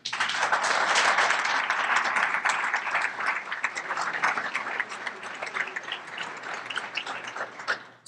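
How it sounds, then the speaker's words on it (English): A crowd at a civic ceremony in Wilmington applauds a downtown development district designation, sustained clapping from many people, loud at first and gradually thinning out. "that deserves some applause"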